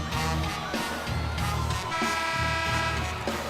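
A pep band plays brassy, honking horn riffs in rhythmic bursts over a drum beat, filling a large, echoing arena at a women's college basketball game, VCU versus George Washington, at the Siegel Center.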